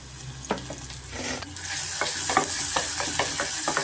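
Crushed ginger and garlic frying in hot oil for a spicy chicken sukka, with a sizzle that swells after the first second and brisk, rhythmic stirring strokes scraping the pan. Close, with no voices.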